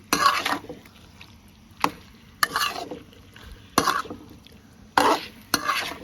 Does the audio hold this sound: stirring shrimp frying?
yes